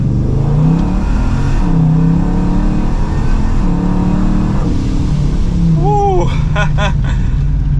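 An 1100 HP Dodge Charger Scat Pack pulls hard from second gear, its loud engine rising in pitch through several quick paddle shifts and ending with a sharp high rev burst, heard from inside the car.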